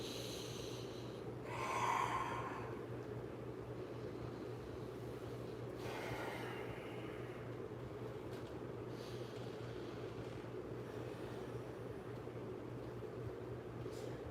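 Deep breathing during an acrobatics warm-up: two airy, drawn-out breaths, the first clearer and stronger, the second softer, over a constant low hum and room noise.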